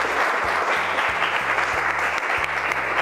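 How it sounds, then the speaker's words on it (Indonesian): Classroom applause for a student named Lucky at SMKN 8 Bandung: dense, loud, continuous clapping from a group of students for about three seconds, close and even. "Kalau gitu tepuk tangan untuk Lucky."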